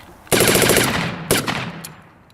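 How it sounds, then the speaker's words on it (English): At a World War II reenactment event, a German MG42 machine gun fires two very fast, ripping bursts, a long one and then a shorter one, loud and nearby, each ringing out briefly afterward. "We'll go back to the MG42 here, see if we're set."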